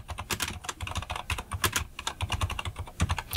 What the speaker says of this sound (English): The last step, go ahead, type, put it your name.